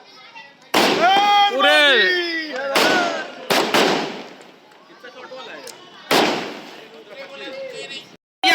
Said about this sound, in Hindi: जबरदस्त यहाँ पर आतिशबाजी यहाँ पर चलता हुआ